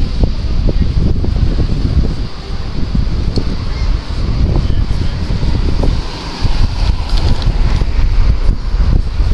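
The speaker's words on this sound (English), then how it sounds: "It is windy, guys." Loud, gusty wind buffets the microphone in heavy rumbling bursts, with faint honking calls in the background.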